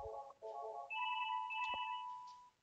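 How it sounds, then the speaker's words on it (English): An incoming-call ringtone on an 8x8 business phone system, a short electronic melody of a few tonal notes followed by a sustained chime, clear and fairly quiet, with no talking. "All right, answer my phone."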